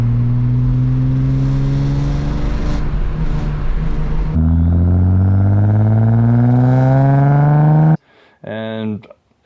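A Stage 3 Audi S4 engine revs up with a raspy, buzzing exhaust rattle around 2,500 to 3,000 RPM, rising in pitch twice, then drops back to a brief idle burble at the end.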